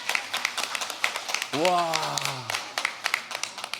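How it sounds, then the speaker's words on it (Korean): Scattered hand claps from a small church congregation, with a voice calling out an exclamation of delight partway through and the clapping continuing loosely around it. "우리 박수로 선물 하나 드리죠"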